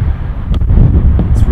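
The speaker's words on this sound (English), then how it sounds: "it's really windy right now." Wind buffets the microphone with a steady low rumble and gusty roar, loud and close throughout.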